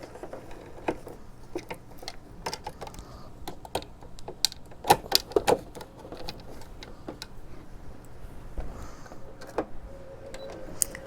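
An embroidery machine tacking down Cricut-cut fabric appliques, giving off rapid irregular clicks and ticks of needle and mechanism against a quiet background with occasional louder taps.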